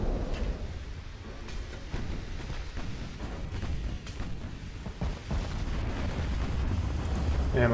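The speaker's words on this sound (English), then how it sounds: "Ammo detonation on that destroyer." Ammunition detonation explosion aboard a destroyer in Ultimate Admiral Dreadnoughts naval combat, a rumbling, sustained blast texture with scattered booms and cracks at moderate distance, fairly quiet overall.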